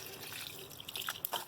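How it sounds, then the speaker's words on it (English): Water trickles and splashes as greenhouse tomato plants are watered by hand, a quiet run of soft drips and small splashes growing busier toward the end, close and with no talking. "So now each one gets watered"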